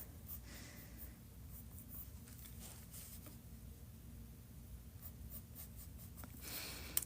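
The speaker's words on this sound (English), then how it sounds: "I always go in and I just use a mechanical pencil" A mechanical pencil scratches steadily across a planner page while drawing, a soft, continuous close-up scraping with short pauses and no talking.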